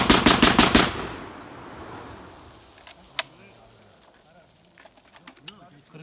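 Rapid burst of automatic fire from a Barak 99 S loaded with a 40-round magazine made of two taped 20-round magazines, about eight loud close shots in the first second, then echo and scattered distant pops outdoors.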